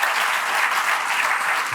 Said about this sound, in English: We must give a round of applause for all the great engineers who made this successful.